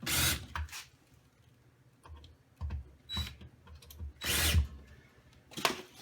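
A power drill drives screws into the front panel of a Seaga HY900 vending machine, with several short whirring bursts separated by pauses and quiet handling noises between them.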